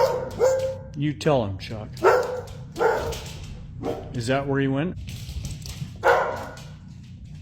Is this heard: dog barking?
yes